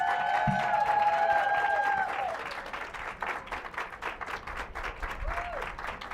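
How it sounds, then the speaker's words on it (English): Applause from a ceremony audience at a university cultural and equity center dedication, honoring a donor; loud clapping at first with a few tonal ringing sounds, then easing into steadier, softer clapping that carries to the end. "Let's give a round of applause"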